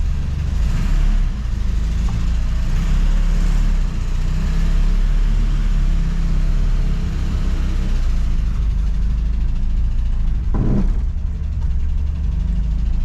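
An old Ford Falcon, its brakes just bled, rolls off under its own power, engine droning low and steady with a rumbling undertone and a brief louder surge near the end.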